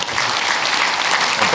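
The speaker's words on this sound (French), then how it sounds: "Je pense que vous pouvez l'applaudir." A conference audience at a keynote breaks into loud, dense applause. The clapping carries on steadily through the brief moment, with faint crowd murmur mixed in.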